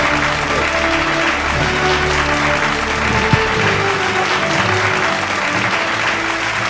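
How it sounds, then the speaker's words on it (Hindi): Loud, continuous applause welcoming Chhattisgarh's chief minister Bhupesh Baghel at a public event, a dense crowd of clapping over steady low hum and tonal background noise, with one sharp knock partway through. "जोरदार तालियों से स्वागत करें छत्तीसगढ़ के मुखिया कक्का भूपेश बघेल जी का"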